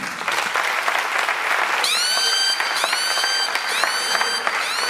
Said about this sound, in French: est-ce qu'on peut applaudir pour Stark